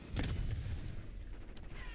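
Sniper rifle fire in the Call of Duty Black Ops 6 video game: a couple of sharp, booming shots crack out over a low rumbling battlefield background, with no talking.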